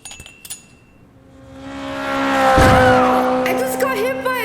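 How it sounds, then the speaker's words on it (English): Tires screech in a loud, rising skid that swells over a couple of seconds and holds, with a brief low thump in the middle and a voice over the tail end. "I just got hit by a car."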